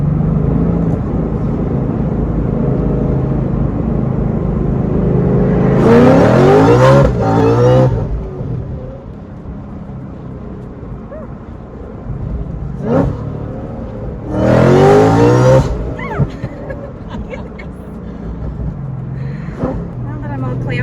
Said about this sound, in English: I'm just gonna show you how easy it lights the tires.